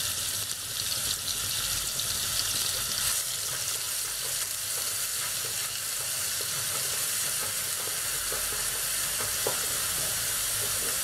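Cardamom and onion paste fry in hot oil, a loud, steady sizzle and hiss with faint stirring, continuous throughout and without talk.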